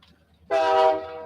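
A train horn blares suddenly after a quiet moment, one loud sustained toot with a low rail rumble beneath, fairly close.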